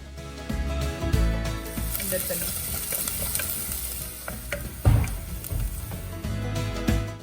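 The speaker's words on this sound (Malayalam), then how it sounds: "ചട്ടി ചൂടായി കഴിഞ്ഞാൽ അതിലേക്ക് വെളിച്ചെണ്ണ ഒഴിച്ച് സവാളയും വെളുത്തുള്ളിയും കൂടെ ഒന്ന് മൂപ്പിച്ചെടുക്കുക" Onions and garlic frying in coconut oil in a hot pan, a steady close sizzle with scraping and stirring clatter from a spoon against the pan throughout.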